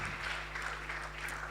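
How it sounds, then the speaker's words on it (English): Steady audience applause at a Girls in ICT event, continuous and fairly even, with many hands clapping together in a hall and no talking over it. "Oh, please keep clapping,"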